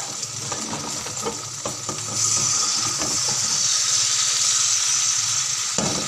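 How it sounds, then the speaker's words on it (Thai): Two eggs dropped into a hot pan, a close steady sizzle and hiss that rises and holds after a couple of seconds, with light clatter of the pan, no speech. "แล้วก็ใส่ไข่ลงไปเลย สองฟองนะ"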